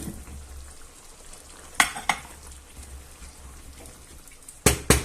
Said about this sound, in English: what I will do next is chuck the potatoes in